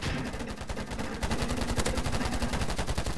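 Rapid automatic gunfire in the free-to-play shooter video game Polygon, a dense, loud burst of shots that continues without a break across the whole moment.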